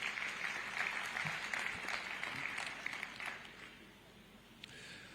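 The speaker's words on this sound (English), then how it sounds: "Another round of applause for Krupp Mining." Audience applause at the EU Zambia Lobito Corridor Forum, a dense patter of clapping that stays strong for a few seconds and then fades to a softer trickle.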